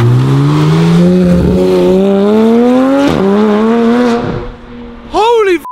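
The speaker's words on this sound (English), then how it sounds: "That's a good looking and a good sounding car." A modified Porsche GT3's engine revs hard as it drives, a loud rising howl climbing through the gears with sharp shift breaks, then a quick burst of revs near the end.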